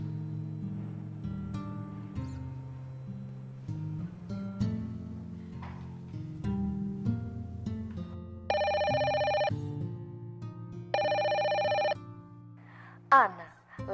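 A telephone rings in two steady, loud bursts with a pause between them, over ongoing conversation and background sound.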